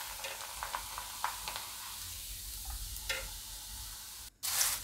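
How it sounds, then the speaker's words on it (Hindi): Corn poha frying in hot oil for chivda produces a soft, continuous sizzle with scattered light clinks and stirring scrapes, ending in a sudden louder burst of crackling. "ये हम दूसरा पोहा फ्राई कर लेंगे।"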